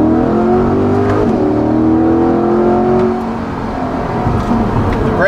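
Naturally aspirated engine of a 2020 Chevrolet Corvette Stingray 1LT Convertible revving close up, a loud rising drone that climbs then settles and drops back, alone without talk.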